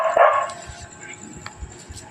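A dog gives a short, sharp bark burst near the start, then only faint low background rumble follows in a home setting.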